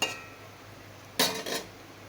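Fried soybean and flour pieces lifted out of hot oil, heard as a couple of short metallic clinks and scrapes of a utensil against the pan over a faint background hiss; no talking.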